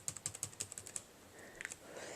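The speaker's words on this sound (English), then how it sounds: "let me just do a quick little typing test and you can probably hear it" Keys clack on a Dell Precision M4400 laptop keyboard: a quick, close burst of about ten sharp taps, a short pause, then a few more taps.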